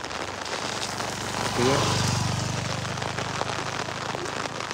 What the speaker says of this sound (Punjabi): ਖੇਤਾਂ 'ਚ ਆ ਗਏ, ਮੀਂਹ ਪੈ ਰਿਹਾ